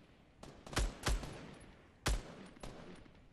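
Gunfire in the Fortnite video game: a few sharp shots fired in short bursts, loud and close, with a pause and then another shot and fainter follow-up cracks.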